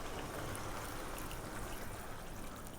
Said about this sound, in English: Now we're going to do a process now of adding water or stock.